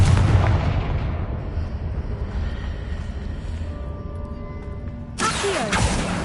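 A burst from the Confringo explosive spell in the video game Hogwarts Legacy booms loudly, with a long decaying rumble and ringing tail before a second sharp blast hits near the end.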